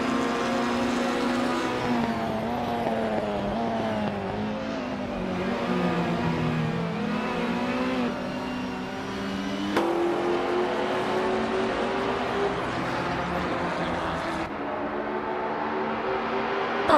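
Race cars in a racing video game accelerate into the first corners in a tight pack, engines whining loud and close with rising and shifting pitch and a gear change midway, no talk.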